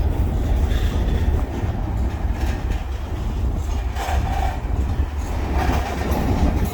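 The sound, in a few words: long freight train passing by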